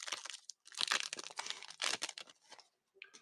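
Trading card packs from a long-opened box are torn open and crinkled close up, with bursts of crackling foil and paper rustling, broken by brief pauses.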